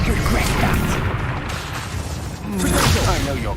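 A Confringo spell explodes in Hogwarts Legacy with a deep, booming blast and swishing rush of noise, fading briefly before a second loud surge, with voices mixed in.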